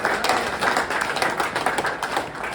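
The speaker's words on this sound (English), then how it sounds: "You can applaud for that." Audience applause from a crowd at a snowmobiling celebration event, steady dense clapping throughout at moderate loudness.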